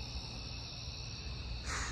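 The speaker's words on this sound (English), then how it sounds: "You guys hear these crickets, though?" Crickets chirping outdoors at night near a dumpster behind a grocery store, a faint continuous high trill with low background hum.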